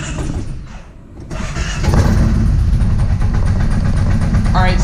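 A Kawasaki Teryx side-by-side with a repaired fuel injection system cranks and fires up, then settles into a loud, steady, close-up idle with an even mechanical rumble.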